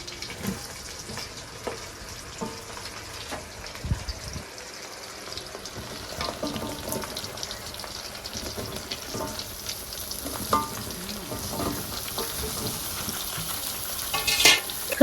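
Raw mango pieces frying in oil with green chillies and five-spice, a continuous close sizzle with soft scraping stirs and occasional clinks of the spoon against the pan.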